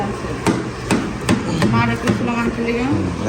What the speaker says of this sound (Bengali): ফালুর সব ফল টল এখানে কাটা হচ্ছে